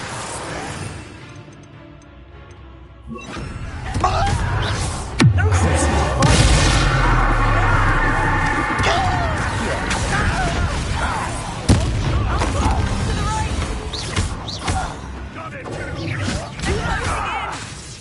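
Bombarda spell explosions in the Hogwarts Legacy video game burst in a string of heavy booms and crashes, with rumbling debris between blasts and a raised voice shouting over the chaos.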